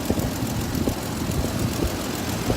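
Jeep 4.0L engine idling steadily after a fuel pressure regulator replacement, a close, continuous low rumble with a faint rhythmic pulse and no talking.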